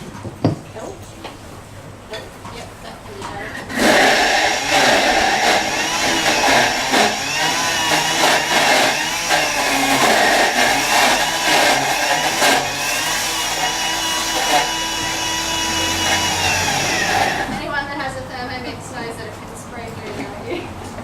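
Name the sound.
food processor blending greens for pet food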